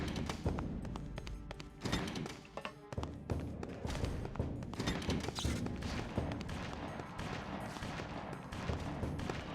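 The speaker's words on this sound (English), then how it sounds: "Somebody is still shooting at me." Dense, continuous gunfire in the PS2 game Bloodrayne, with rapid overlapping shots and thumps filling the whole stretch at a steady, loud level against game ambience.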